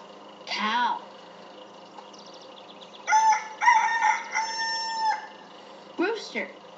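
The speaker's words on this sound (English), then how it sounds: "Rooster." A rooster crows a loud, stretched cock-a-doodle-doo at close range, with brief spoken words just before and after it.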